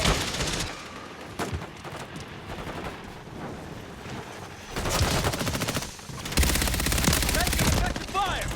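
Call of Duty MW3 multiplayer gunfire: scattered shots, then loud sustained automatic bursts with crackling impacts and in-game radio voice callouts mixed in.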